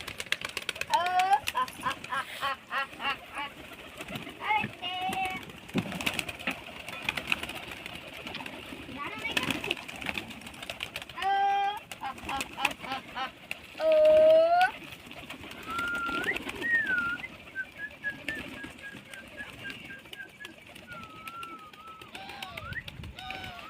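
Newly bought pigeons coo and shuffle nearby, with repeated cooing calls and some whistling chirps over a busy background of tapping and rustling, while people talk throughout.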